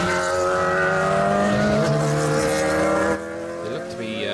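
500cc race cars lapping Kirkistown circuit, engines loud and close with rising and falling revs as they pass, a brief tyre squeal, then the roar dropping away to a more distant drone near the end.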